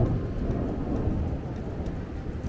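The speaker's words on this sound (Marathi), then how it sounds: "ढगांचा कडकडाट आणि गडगडाट आहे का." Rain pouring outside a houseboat in Kashmir on a cloudy morning, a steady near hiss of falling drops with a low rumbling of thunder underneath, no voices.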